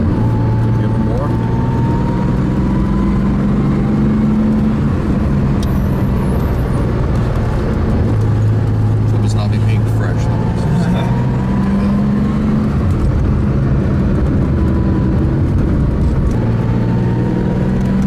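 Porsche 911 Carrera 2.7 RS engine pulling through the gears while driving, loud and close, with low droning tones that rise and shift as the car brakes and accelerates, and occasional voices inside the car.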